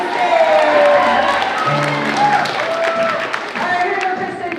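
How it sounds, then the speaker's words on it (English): An audience at a spring school rock concert cheers and applauds for a performer coming to the stage, a loud, steady wash of crowd noise that carries through the whole stretch. "everybody give Christian a big cheer"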